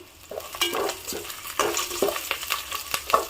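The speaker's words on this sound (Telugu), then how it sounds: "వీటిని బాగా వేయించుకోవాలి ఉల్లిపాయ ముక్కలు వేగుతూ ఉండగా" Onion slices and curry leaves fry in hot oil, a steady close sizzle broken by repeated scraping stirs of a spatula, with no talking.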